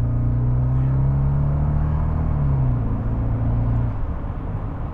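A 1970s Mercedes-Benz 450 SEL 6.9 V8, kicked down into second gear on a nearly dry road, gives a loud, close, sustained engine roar and rumble that holds steady, then shifts lower and eases toward the end.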